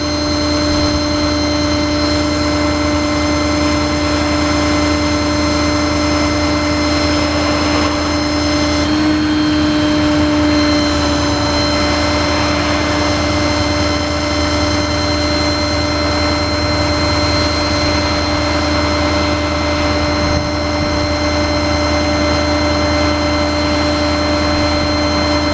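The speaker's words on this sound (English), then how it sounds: "Bring it all back in. Take the winch up." Hydraulic winch on the crane of a 2015 Ford F550 mechanics truck runs steadily with a constant mechanical drone and engine hum throughout, loud and close, with no talking.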